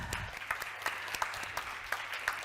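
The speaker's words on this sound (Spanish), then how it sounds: "¡Un aplauso!" An audience at a live indoor event gives a short round of applause. Individual claps ring out fairly sparsely and irregularly at moderate volume, with no voices over them.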